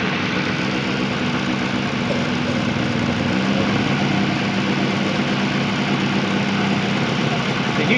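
An older Honda Civic engine idles roughly with the vacuum hose pulled off its MAP sensor, a close, continuous mid-to-low drone with uneven pulsing throughout.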